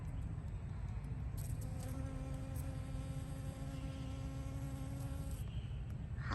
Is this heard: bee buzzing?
yes